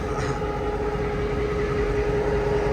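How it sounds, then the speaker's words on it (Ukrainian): A train passes close by during a roadside stop in America, a loud, steady rumble of rail cars with a sustained tonal hum and dense low-frequency roar filling the whole stretch, no voices over it. "тут поїзд шумить дуже сильно"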